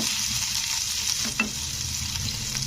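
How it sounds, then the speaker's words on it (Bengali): A large onion sizzles steadily in hot oil while being stirred and fried until reddish, a close, continuous crackle with a brief clatter midway. "পেঁয়াজটাকে এবারে তোমাদের লাল মানে একটু লালচে করে ভেজে নিতে হবে"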